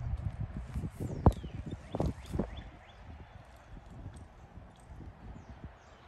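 A horse walks with steady clip-clop hoofbeats close by, marked by a sharp louder strike early on and rustling around the steps, and the footfalls fade somewhat toward the end.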